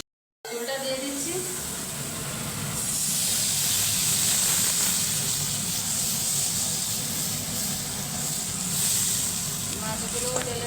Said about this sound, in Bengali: ঝোলটা দিয়ে দিচ্ছি।